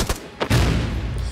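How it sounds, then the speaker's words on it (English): Destroyed mortars blowing up in the shooter game Caliber: a sharp crack followed by a heavy, loud boom that rolls on and fades over about a second. "Get ready for explosion."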